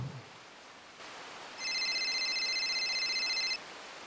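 Electronic telephone ringtone in a ghost story, one sustained shrill ring of a couple of seconds over a quiet background hiss, with no voices.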